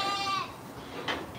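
Pygmy goats in a goat pen, one clear wavering bleat up front, then a short fainter cry about a second later, with quiet surroundings.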